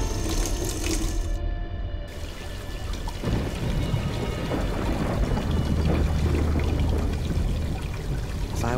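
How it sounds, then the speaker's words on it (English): A water tap left running into a sink with a mop head over the plug hole in Black Mirror 2, a steady close rushing and pouring stream that continues without pause. "as long as the water's running, it might look like someone simply forgot to turn it off"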